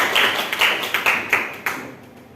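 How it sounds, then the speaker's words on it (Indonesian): A small class applauding, several sharp claps in an uneven sequence that thin out and stop after about two seconds. "Beri aplaus untuk kita semua"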